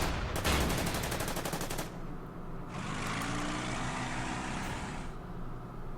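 Tank guns firing at a T-34 in the strategy game Order of Battle, heard as a loud, rapid burst of crackling shots that gives way to a sustained rumbling blast.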